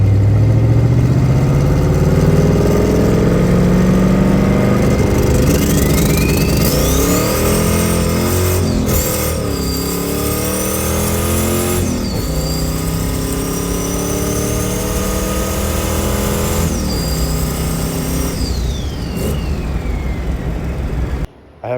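A Ford Mustang fitted with a new carburetor drives past loudly, its engine revving up through repeated rising pulls with gear changes in between, a steady mid-pitched roar with no talking.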